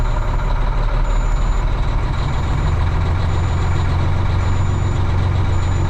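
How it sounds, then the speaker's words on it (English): A heavy diesel truck engine idles while warming up with a deep, steady rumble, while a faint high beep repeats at regular intervals in the background. "The sooner it warms up, the better it is for your engine."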